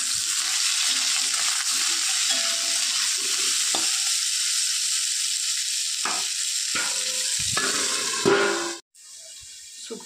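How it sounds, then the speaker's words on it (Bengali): Cauliflower fries in oil in a pan with a continuous, bright sizzle and scattered clinks and scrapes of stirring, then drops abruptly near the end before a quieter sizzle resumes. "শুক্তোটা নামিয়ে ফুলকপি ভাজা বসিয়ে দিয়েছি"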